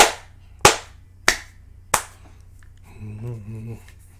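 Hands clap along to an anime opening theme, three sharp, evenly spaced claps close by, followed by a short stretch of faint music.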